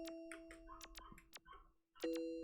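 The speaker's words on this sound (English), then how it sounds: "Dogs barking." Dogs barking in the video game Yume 2kki, in a dreamy park, with short yaps scattered over a steady tonal chime and a bright ding near the end.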